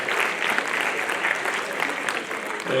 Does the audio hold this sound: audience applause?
yes